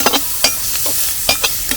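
Water snails roasting in a spicy masala in a pan sizzle steadily, with a spoon scraping and knocking against the pan in several quick, irregular strokes.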